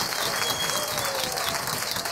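Studio audience applauding a Tyrolean folk band at a TV music show taping, steady dense clapping throughout at an even level with no pauses.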